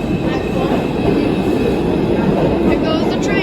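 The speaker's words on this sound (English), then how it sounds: "Here goes the train." A New York City subway train rumbles loudly and steadily at close range, with a continuous roar of wheels on rails and faint squealing, no clear speech.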